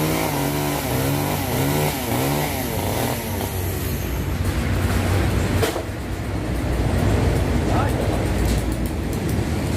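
A chainsaw drones loud and close while cutting down a tropical almond tree in rural Dong Thap, then gives way to crackling and crashing as the tree comes down, with voices around it.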